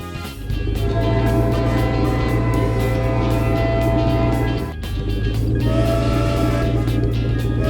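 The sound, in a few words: train in a Peppa Pig cartoon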